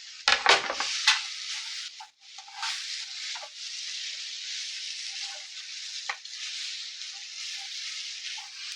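Grated potato frying with spices in a pan for a crispy spiral potato snack gives a steady, close sizzle, with a few sharp utensil clatters at the start and light stirring scrapes throughout.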